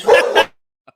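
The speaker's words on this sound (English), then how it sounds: "Welcome back, and that's my dog barking." A pet dog at home gives two quick, loud barks close by, followed by silence.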